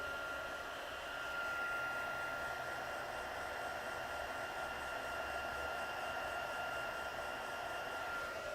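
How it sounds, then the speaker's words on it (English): A heat embossing tool blows hot air onto a greeting card, a steady close whirring fan rush with a high whine that stays constant throughout. "So I'm just heat embossing this hello friend here."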